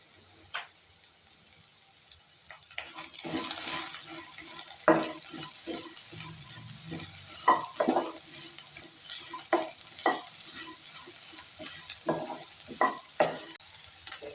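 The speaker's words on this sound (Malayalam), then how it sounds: "ഈ ടൈമിൽ ഇതിലേക്ക് ഒരു സവാള ചെറുതായി അരിഞ്ഞത് ചേർത്ത് കൊടുക്കാം" Finely chopped onion added to cooked potatoes for a potato garlic fry, sizzling softly in the pan while a spoon stirs with a run of clicking, scraping strokes, growing more regular toward the end; no speech.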